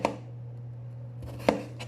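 Two sharp knife chops land on a cutting board, one at the start and another about a second and a half later, over a steady low hum in a home kitchen.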